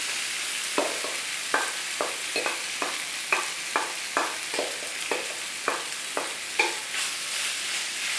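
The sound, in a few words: tofu scramble frying in a hot pan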